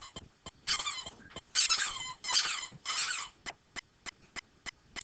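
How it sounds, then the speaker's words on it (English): An excited puppy lets out high-pitched squeaks and whines, some in longer bursts and others as short repeated chirps, close and fairly loud with no speech. "Sorry about the squeaking, that's an excited puppy."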